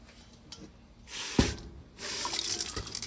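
Boiling water is poured over dry beans with a splashing, hissing rush, a faint clink midway, then a steady stream continuing to the end, close by.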